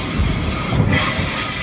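A train on a ride to a football match rumbles loudly along the rails, with a constant high-pitched wheel squeal and a low rolling roar heard from inside the carriage.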